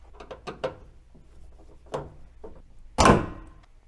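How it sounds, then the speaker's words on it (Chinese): A microwave door being fitted onto an over-the-range microwave, with a series of light knocks and clicks before one loud, close thunk as it seats into place. "主要目的是要把这个微波炉的门给装上"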